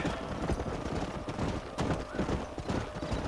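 Hooves of several herded horses clatter in Red Dead Redemption, a continuous clip-clop with an occasional whinny, fairly close and busy throughout.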